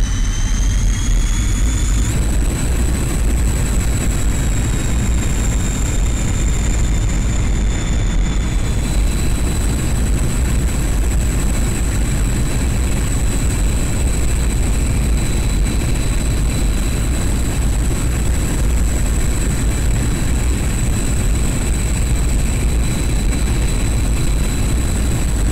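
A MiG-21bis jet engine roars during takeoff in the flight simulator DCS World, a loud, steady, close whine and rumble with shifting high tones as thrust changes, heard alone.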